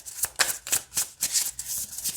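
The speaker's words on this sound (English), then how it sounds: "They shuffle really nice. They glide." A deck of oracle cards being shuffled by hand, close up, in a quick series of soft papery riffles and slides, about eight strokes in a steady rhythm, with no talking.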